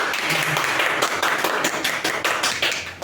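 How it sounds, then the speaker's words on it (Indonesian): Students in a classroom applaud, a dense, lively burst of many hands clapping close by, with individual sharp claps standing out and the sound holding steady throughout. "tepuk tangan untuk"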